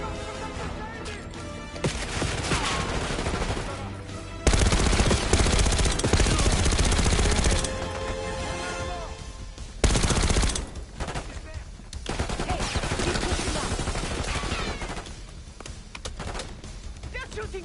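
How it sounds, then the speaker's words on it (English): Video game gunfire in Call of Duty: Black Ops 6, with dense, loud bursts of automatic weapons and heavy fusillades that keep going. Stretches of sustained shooting are broken by short lulls. "They're shooting! Get down!"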